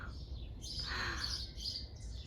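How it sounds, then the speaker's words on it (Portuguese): Small birds chirping in a garden, a busy overlapping chorus of high tweets and calls at moderate distance, fairly faint over a low steady background rumble, with no talking. "Só escutando o barulho dos passarinhos."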